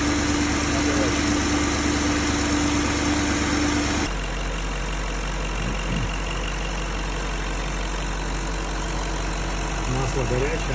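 A warm BMW M62B35 V8 idles steadily with a smooth, even hum and faint mechanical ticking, a tonal drone dropping partway through, with brief voices near the end.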